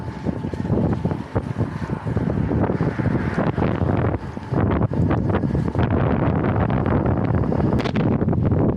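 Heavy wind roars across the microphone on a road bike ride through open country, a loud, continuous, gusty rush that fills the whole stretch.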